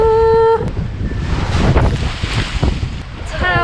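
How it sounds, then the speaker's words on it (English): Gale-force wind roars across the microphone aboard a sailing boat surfing huge waves at dusk, with heavy rushing water and buffeting gusts throughout, loud and close, following a brief steady tone at the start. "It's howling a bloody gale. The waves are insane."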